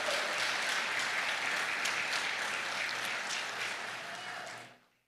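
Warm applause from a church congregation, many hands clapping evenly and fairly softly for about four seconds before quickly dying away.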